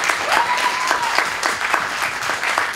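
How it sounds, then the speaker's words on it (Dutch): An audience applauds after a post-show talk, brisk dense clapping filling the room throughout with a faint voice briefly audible. "Mag nog een applaus voor wat er gezegd wordt."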